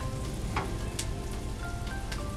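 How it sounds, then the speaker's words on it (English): Mushrooms and bacon sautéing with onions in a pan, giving a steady soft sizzle with a few brief pops and clinks of stirring. "we're going to add the mushrooms and the bacon to our sauteed onions to get them nice and warm and mixed up"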